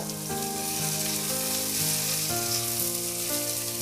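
Carrots and yardlong beans sizzle steadily in a hot pan while being stir-fried for vegetable chow mein, a loud, even frying hiss with a low hum and no talking.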